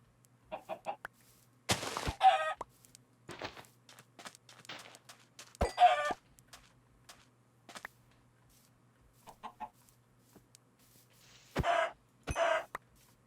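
Chickens infected in Minecraft give short bursts of clucking and squawking, scattered across the scene with pauses and a few sharper, louder calls near the end, over a faint steady background hum.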